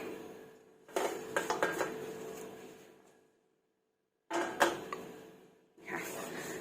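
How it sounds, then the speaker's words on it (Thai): Metal utensils scrape and clink against a pot as ingredients go in and get stirred for a Thai dish of banana blossom with minced pork, two close bursts of clattering separated by a silent pause. "ใส่ลงไปแล้วก็ข้นค่ะ พี่น้องข้นให้เข้ากัน"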